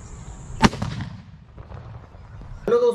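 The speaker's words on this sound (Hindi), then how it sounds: "आज मैं आपको दिखाऊंगा एक ऐसी गन जिसको आप घर पर भी आसानी से बना सकते हैं।" A homemade desi gun for Diwali test-fired like a firecracker: one sharp, loud bang followed by a fading crackle, then a second noisy burst at the end.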